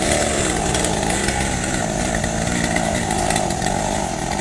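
A chainsaw cutting a tall tree beside an orchard and a creek, its engine droning loud and steady at close range without a break.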